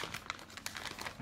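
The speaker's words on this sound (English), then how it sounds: "So these are coming in this plastic bag" Clear plastic packaging bag holding press-on nail tips from a nail art haul, crinkling up close with irregular bursts of crackling through a short stretch, no talking.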